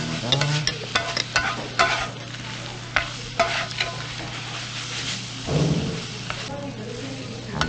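Dakgalbi, spicy stir-fried chicken, sizzling on a griddle in a Chuncheon restaurant while being stirred and turned, with repeated scraping and clacking of a spatula over a steady frying hiss and some voices nearby.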